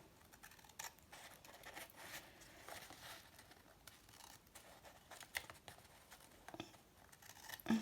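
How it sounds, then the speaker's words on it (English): Scissors snip through paper pages of an altered book to cut pockets, producing quiet, intermittent crisp clicks and rustles, close up and faint, with no voices. "I think some smaller scissors perhaps may have been better for this."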